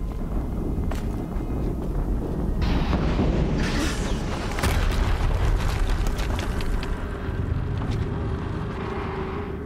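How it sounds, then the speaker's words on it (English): A deep rumbling blast rolls out in the game Horizon Zero Dawn, a broad roaring burst that swells midway and trails into wind-like noise with scattered debris crackle. "explosion."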